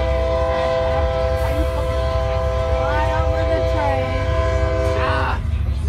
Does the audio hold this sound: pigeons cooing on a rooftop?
no